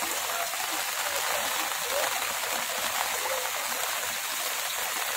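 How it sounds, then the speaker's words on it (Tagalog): Heavy, steady rain pours down during Typhoon Enteng in Burdeos, Quezon, a dense unbroken hiss filling the whole stretch with no voices over it. "umuulan pa"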